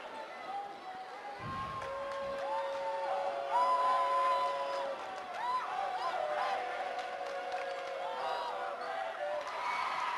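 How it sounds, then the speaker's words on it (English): The Denver South crowd chants during a high school boys basketball game against Denver East, a steady mass of voices in a gym, with a commentator talking over it. "The South crowd sitting right behind us chanting overrated as Griffin calmly knocks down the free throw"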